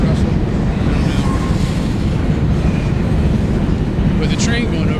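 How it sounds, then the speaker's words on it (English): A train rolls past overhead in a steady, loud, continuous rumble with rail clatter, filling the whole stretch without a break. "the train going over that couldn't have been more perfect timing"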